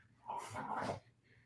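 Dogs give one short, close burst of barking lasting under a second, then go quiet.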